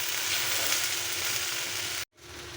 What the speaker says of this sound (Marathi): तर मी पूर्ण हलवून घेते कांदा.